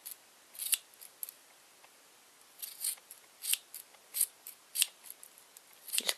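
Scissors snip through yarn while a pom pom is trimmed, a series of sharp, close cuts that come irregularly at first and then faster with short pauses between.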